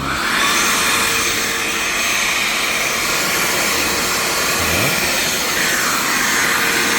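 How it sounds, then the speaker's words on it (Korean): A steady, loud vacuum motor drones continuously, drawing through an adhesive dust-extraction pad used for drilling, with a high-pitched whine that shifts slightly near the end, no voices. "청소기 작동"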